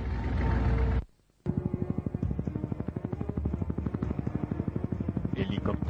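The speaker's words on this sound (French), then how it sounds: "l'hélicoptère arrive, il va nous tirer dessus" Helicopter approaching, a rapid rhythmic rotor chop that thumps steadily after a brief near-silent gap, loud and close, with voices talking over it at times.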